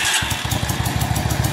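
A Yamaha Drag Star 400 motorcycle idles close by, its exhaust giving a steady, loud, rapid pulsing putter with no voices over it.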